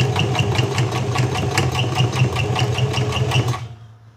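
A sewing machine stitches a wig, running at a fast, steady mechanical rhythm up close before stopping abruptly near the end.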